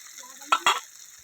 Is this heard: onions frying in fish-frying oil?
yes